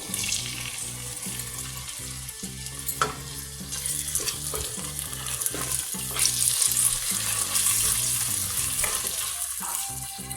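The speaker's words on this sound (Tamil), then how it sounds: "ஆனியன் ஃப்ரை ஆனதும் நம்ம பச்சை பட்டாணி ஆட் பண்ணிடலாம்." Green peas going into frying onions and mint for mint rice: a continuous close sizzle with clattering stirs and scrapes that grows busier midway, with no speech.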